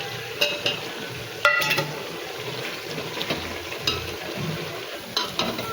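Ground spice powder is stirred into chicken frying in a Chettinad-style gravy pan. Soft sizzling carries under a few sharp spoon clacks against the pan, near and without speech.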